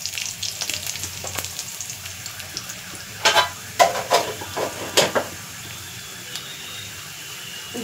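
Dried red chillies and whole cumin hit hot oil for a tempering, giving a crackling sizzle with several sharp bursts of spitting in the middle and a softer hiss before and after.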